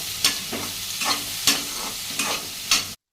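Onions fry in a pan for a chicken curry. A steady sizzle is broken by five sharp, evenly spaced stirring scrapes, close and fairly loud, with no talk, before an abrupt cutoff.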